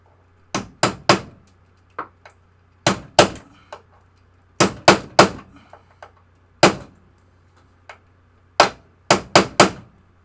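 Sharp metallic hammer blows strike a broken socket extension used as a drift, landing in quick clusters of two or three with short pauses between, loud and close.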